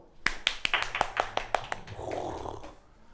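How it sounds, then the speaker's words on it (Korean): A class clapping hands in a chemistry lesson, about eight sharp, evenly spaced claps in a quick rhythm, followed by a brief soft rustle and murmur. "박수!"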